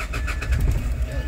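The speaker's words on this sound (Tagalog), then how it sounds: "So start natin makina." A car engine cranks and catches on a hot day in Nueva Ecija, giving a short, loud, close burst of ignition and low engine rumble.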